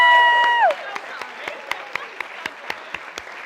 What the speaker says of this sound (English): Can we all give a round of applause to Rachel Beatty for helping moderate this?